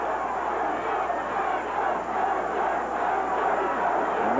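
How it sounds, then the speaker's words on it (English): A boxing crowd roars in support of Ray Mercer during his fight with Tommy Morrison, a sustained, dense wash of cheering and shouting from a large arena audience, steady throughout. "And now the Mercer crowd comes to his support."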